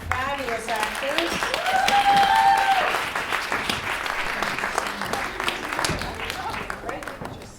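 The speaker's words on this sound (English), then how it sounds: "Another round of applause for our fabulous actors." Sustained applause from a theater audience in New York for the actors, full and steady for several seconds, swelling slightly in the middle before tapering, with a few voices mixed in.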